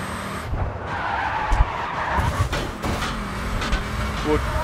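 A car drifting in the racing game Grid 2, its tires skidding and squealing continuously over engine roar, with someone talking throughout.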